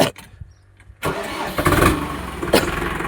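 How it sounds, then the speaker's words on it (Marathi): A Digitrac PP46i tractor starts on its self-starter after a second of quiet: a brief cranking burst, then the engine catches and settles into a loud, rough idle close by. "तुम्हाला ना डायरेक्ट आता ट्रॅक्टरचा एक सेल बेल मारून दाखवतो"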